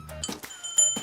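A small bell rings with thin, sustained high tones that linger, broken up by brief soft knocks and rustles.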